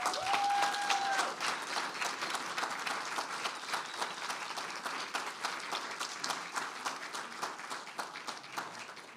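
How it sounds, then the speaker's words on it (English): Audience at a faculty poetry reading applauding poet Mark Wunderlich, a sustained wash of many hands clapping that gradually thins out. "Let's have some more applause for Mark."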